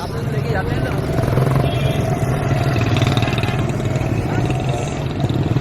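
Busy street traffic in central Karachi, with engines idling and revving amid roadside stores, a steady close rumble of cars and motorbikes running throughout, and voices chattering underneath.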